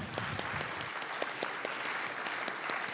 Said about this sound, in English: Can we give them a little round of applause?